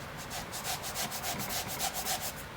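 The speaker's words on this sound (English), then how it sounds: "got my red Scotch-Brite, put a little bit of brake clean on there" Red Scotch-Brite pad with brake cleaner scrubbed against a rod bearing from a damaged Toyota 2JZ engine, a fast steady run of short back-and-forth rubbing strokes, close and moderately loud, with no talking.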